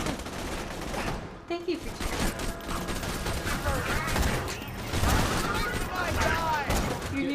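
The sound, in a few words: gunfire in the video game Borderlands 2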